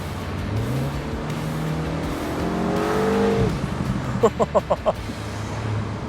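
A MINI JCW Convertible driving, its engine note rising in pitch under acceleration then dropping, followed by a few sharp, rhythmic bursts like gear changes or exhaust pops, heard close from inside or near the car.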